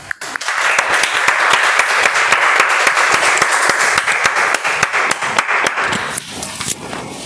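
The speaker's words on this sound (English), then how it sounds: "give a huge round of applause" An audience at a Toastmasters club meeting applauds steadily to welcome the first speaker to the stage, a dense, loud wash of clapping that holds for several seconds before thinning out at the end.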